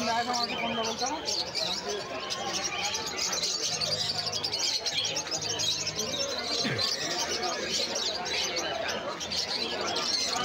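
Sun conures at the Galiff Street bird market send out sharp chirps and squawks amid a busy din of other caged birds, with someone talking over the calls.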